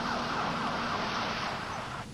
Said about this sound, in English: Seeing the ambulance leave